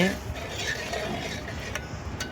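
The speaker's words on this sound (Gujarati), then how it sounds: "તો દહીં એડ કરવાનું ચાલુ છે, જોઈ લો." Curd (yogurt) being added to a bowl and stirred with a spoon for raita, soft scraping and light clinks of utensil against the dish, close and steady with no talk.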